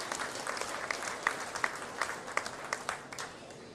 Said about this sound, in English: Let's just have a round of applause for all those people that make this happen.